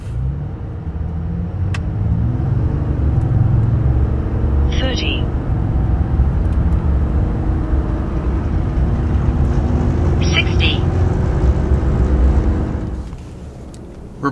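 A 2025 RAM 2500 truck with 370 horsepower, 850 lb-ft of torque, a 68RFE six-speed transmission and a 3.73 rear end accelerates hard in a 0-60 run, making a loud, steady engine drone heard from inside the cab for over ten seconds before it eases off.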